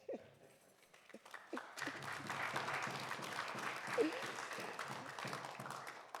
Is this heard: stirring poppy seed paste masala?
no